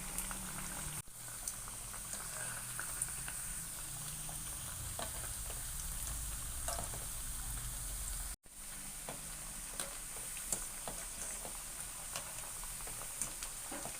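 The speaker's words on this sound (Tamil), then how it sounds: "நம்மளோட வடை சூப்பராக வெந்துட்டுருக்கு" Masala vadai (lentil fritters) deep-frying in oil, giving a steady, continuous bubbling sizzle with faint crackles throughout and two brief sharp breaks.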